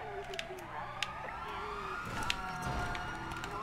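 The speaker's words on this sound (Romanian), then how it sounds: "Hai să scăpăm de poliție, că a venit poliția după noi." Police siren wailing in a video game chase, a faint rising and falling tone under engine noise and sharp clicks, with no one talking over it.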